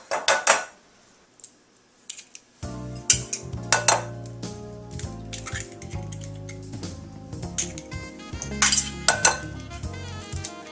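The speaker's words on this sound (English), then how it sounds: "I'm going to whisk together my eggs, my milk, my cinnamon, and my vanilla" Eggs, milk, cinnamon and vanilla whisked in a bowl, a close run of rapid clinking and tapping of metal on the bowl after a brief quieter opening.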